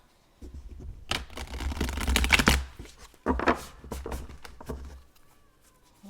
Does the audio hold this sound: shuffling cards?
yes